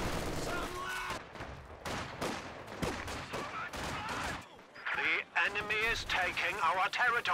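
Game gunfire in Company of Heroes 2, with bursts of rapid shots and a sustained machine gun rattle over busy battle noise, mixed under a commentator's voice throughout.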